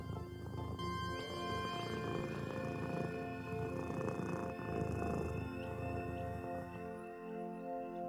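Cats purring in the puzzle game A Little to the Left: a low, continuous rumbling purr with soft tonal music layered over it, steady throughout and fading near the end.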